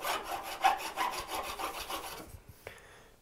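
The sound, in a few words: filing with a mill file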